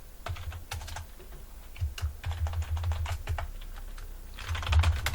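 A computer keyboard is tapped in quick irregular bursts of close, crisp key clicks, with short pauses between runs and no speech.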